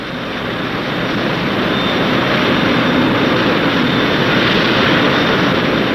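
Boeing Dash 80 jet tanker in test flight, a loud steady broadband roar of jet engines that swells slightly and holds constant throughout, with no voices.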